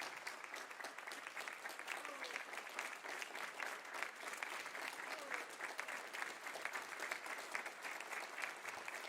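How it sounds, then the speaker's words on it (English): Audience applause welcoming the nominees at a presidential debate between Trump and Biden, a steady, fairly distant wash of clapping that holds at an even level throughout. "Please clap."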